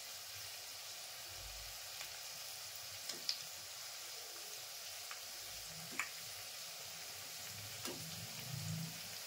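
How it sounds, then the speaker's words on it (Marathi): Balls of urad dal and rice batter fry in hot oil with a faint, steady sizzle, broken by a few soft ticks and pops. "थोडेसे गोल्डन ब्राऊन होईपर्यंत आपण ठेवायचे. तळायचे."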